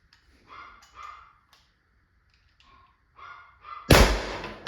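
A dog barks several times in short bursts, close and fairly loud, with whimpering yips between them, and a sudden thump at the end.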